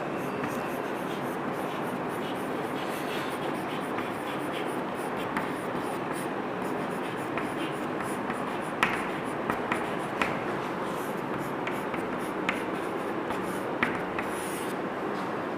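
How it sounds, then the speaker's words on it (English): Pen scratches across paper while an augmented matrix is written out by hand, a continuous close scribbling with small taps and strokes as numbers are jotted, no voice audible. "Now I am going to write the augmented matrix."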